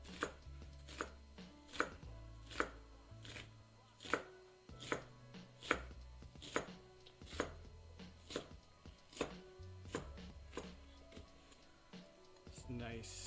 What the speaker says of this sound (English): So I'm just going to finish chopping this up.